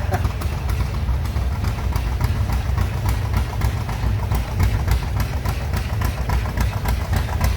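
A 1948 John Deere Model G tractor engine runs in an antique tractor parade with a steady, loud, chugging pulse of rapid, evenly spaced beats.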